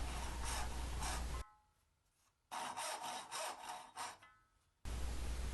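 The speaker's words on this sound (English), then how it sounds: "I'll begin sawing out my tails" A hand saw rasps through wood cutting dovetail tails in rhythmic back-and-forth strokes, pausing briefly before resuming, then cutting again; close and clear.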